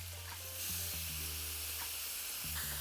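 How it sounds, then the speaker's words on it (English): Peaches fry in olive oil on a Blackstone griddle, a continuous close sizzle with soft scraping stirs of a utensil on the flat top. "I'm just going to cook down these peaches"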